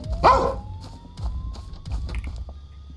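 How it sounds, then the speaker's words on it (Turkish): A dog in the video game Thief Simulator 2 lets out a sharp bark at the start, followed by softer yips and whimpering sounds over a low background hum and faint game noises. "Köpek!"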